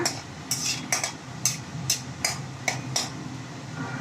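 A metal spoon scrapes and taps a pan in a steady rhythm, about eight sharp clinks over a soft sizzling hiss of whole spices, including cinnamon, frying in oil.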